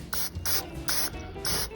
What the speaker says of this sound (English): I'm just going to give these grates a quick dose of cooking spray.